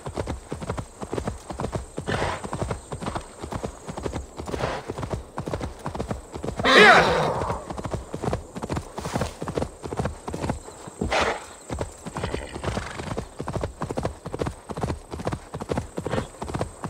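Rhythmic clip-clop of horse hooves trotting steadily throughout in Assassin's Creed Valhalla, with a single loud whinny partway through and another brief neigh later.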